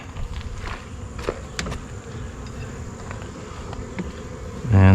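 Honey bees buzz steadily around an open Layens hive during a fall inspection, making a close, continuous drone with a few louder fly-bys. A heavier handling noise comes at the very end.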